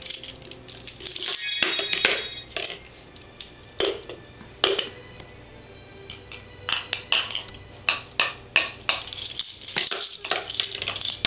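Keys jingle and rattle in a child's hands, clinking in irregular shaken bursts and scattered taps that are close and fairly loud, with brief pauses in between.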